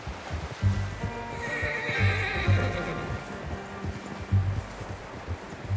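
A horse neighs loudly in the video game Red Dead Redemption 2, with hooves clopping steadily on the ground and soft rustling and wind around it.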